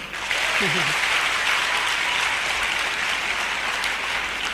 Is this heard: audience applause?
yes